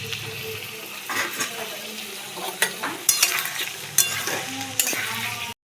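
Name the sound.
marinated chicken frying with onions in a pan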